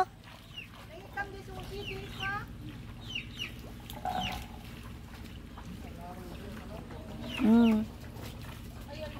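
Chickens cluck intermittently against a low engine-like hum, with people talking nearby and one louder squawk standing out near the end.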